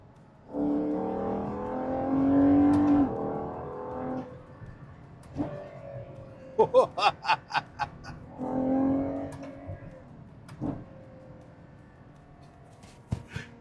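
A Ferrari Purosangue SUV accelerates hard, its engine note rising in two loud surges separated by a sharp burst of crackles and pops, then easing off toward the end.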